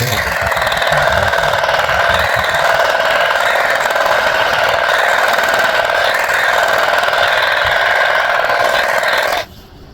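A power trimmer cuts weeds in a lawn, giving a loud, steady, close-up buzzing whine with a cutting rasp that runs continuously until it drops off sharply at the very end.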